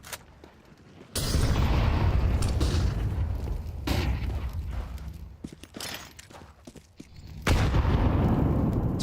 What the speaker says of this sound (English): It's a well-placed nade.